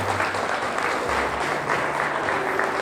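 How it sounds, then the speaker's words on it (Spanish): Congregation at a church Easter service breaks into applause, a steady dense wash of clapping that holds across the whole stretch at moderate loudness, with no voices standing out. "Denle un aplauso al Rey de Reyes y Señor de Señores"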